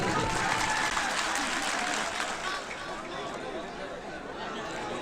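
Sustained applause from a mushaira audience at an all-India poetry recital, a dense crowd clapping loudly and steadily throughout with some chatter mixed in.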